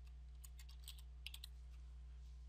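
Quiet, close keystrokes tap out a short burst of typing on a computer keyboard over a low steady electrical hum.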